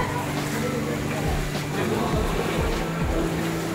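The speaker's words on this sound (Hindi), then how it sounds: "इतना पानी गिर रहा" Water rushing through the stream at Robber's Cave near Dehradun: a loud, steady broadband roar throughout, with indistinct voices underneath.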